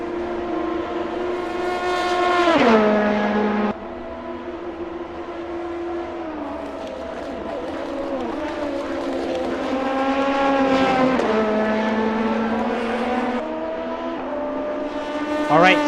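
Race cars howl around Watkins Glen during the All For One 200 event, loud high-revving engines rising and falling through gear changes as cars pass close by, with a commentator talking over the noise.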